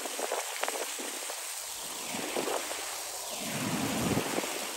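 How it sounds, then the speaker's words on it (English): Steady rain and rumbling thunder from a very powerful storm, a broad wash of rainfall with a deep roll building and swelling toward the end, no voices. "These clips are from a very impressive, very powerful storm."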